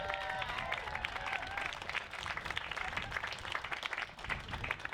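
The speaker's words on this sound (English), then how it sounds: "our dear friends Roland and Patricia Rebele, big round of applause for them." Applause from a dinner audience at an outdoor farm supper fundraiser, a dense, steady roar of many hands clapping for about five seconds, with faint voices and a few whistles mixed in.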